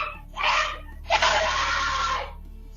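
A woman screams in two loud, drawn-out bursts during a heated domestic argument, the second longer and sustained, with a brief pause between them.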